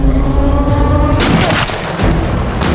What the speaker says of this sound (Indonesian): Brackett dan John D untuk menembak pengawas yang ada di pos terdepan dari jarak 2000 km.